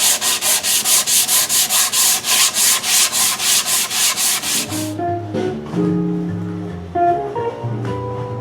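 A solid body guitar body is hand-sanded with the grain in steady, even rhythmic strokes, close and loud, then the rubbing stops and tonal music notes follow.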